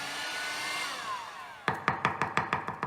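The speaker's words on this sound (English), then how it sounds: "I'm using a heat gun here in the workshop" A steady blowing hiss of hot air from a 110-volt heat gun in a workshop runs for over a second, then gives way to a series of sharp, evenly spaced clicks or taps.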